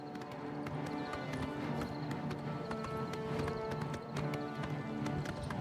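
Horse hooves clip-clopping in the video game Oblivion Remastered, a steady run of crisp, evenly spaced hoof taps on hard ground, fairly quiet with no talking.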